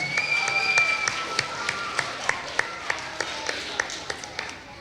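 Students and audience in a school gym applaud two contestants, with scattered distinct claps over a noisy crowd backdrop, under what sounds like a voice talking.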